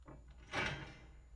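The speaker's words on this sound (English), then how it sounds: "Another wooden door pitched down." A wooden door settles with a single low, drawn-out creaking rub that has been pitched down for a cartoon sound effect, heard close and alone.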